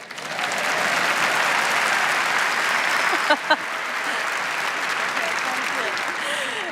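Audience applause at a festival talk session, a full, steady crowd of clapping with a couple of louder claps near the middle.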